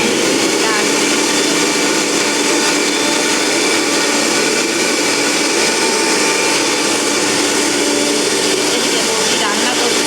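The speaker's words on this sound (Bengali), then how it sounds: "ডাল মিক্সিতে ফিস্ট করা হচ্ছে।" Mixer grinder grinding lentils (dal) in a home kitchen, a steady loud whirring motor drone held for the whole stretch, with faint voices in the background.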